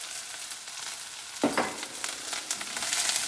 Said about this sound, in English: You can hear that sizzling. That sizzling is what stir fry is.